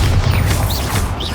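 A Bombarda spell blast in Hogwarts Legacy, a deep sustained booming rumble with faint whooshing swirls on top, loud and close for its brief length.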